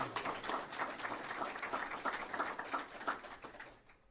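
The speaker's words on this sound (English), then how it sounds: "you can clap for that." A crowd at a government press announcement gives a short round of applause, quiet and somewhat distant, with even clapping that fades out at the end.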